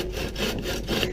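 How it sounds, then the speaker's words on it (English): A hand saw cuts a piece of wood set on a wobbly backyard picnic table, its rhythmic rasping strokes loud and close, with no talking. "Put the saw in the trough."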